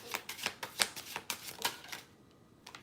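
Large tarot cards are shuffled by hand in a quiet room, a run of crisp riffling snaps and flutters with short pauses, fading toward the end.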